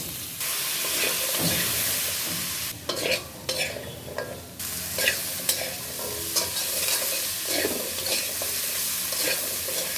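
Potatoes and drumsticks frying in hot oil, a continuous sizzle broken by repeated scraping and stirring strokes in the pan, close by.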